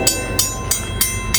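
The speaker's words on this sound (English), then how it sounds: "Love that mechanical bell." An old mechanical railroad crossing bell rings in steady, evenly spaced strikes about three per second as a train passes, loud and close with the rumble of rail cars underneath.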